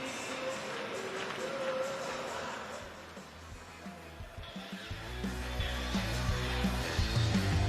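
A stadium crowd at Daikin Park in Houston claps along at a Savannah Bananas baseball game, a broad, fairly distant wash of steady applause mixed with music that swells louder toward the end.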